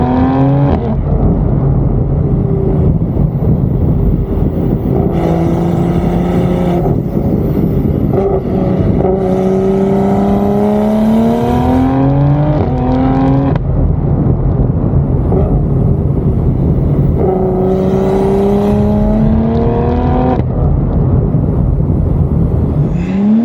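An 830 wheel-horsepower BMW M240i accelerates hard, its engine climbing through rising revs in several pulls with gear changes between them, loud and close throughout with no talk.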